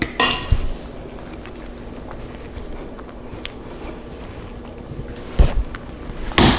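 A tasting spoon scrapes and clinks against a bowl of fluffy, buttery whipped potatoes, with brief clatters at the start and end and soft, steady room noise in between.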